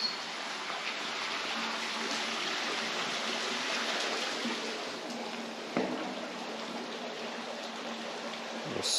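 Water pouring over a small dam spillway outdoors, a steady broadband rush that stays constant and fairly close throughout, with no talk over it.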